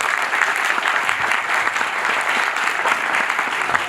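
Loud, dense applause from an audience at a Gujarati film promotion event with a religious discourse, sustained clapping from many hands throughout.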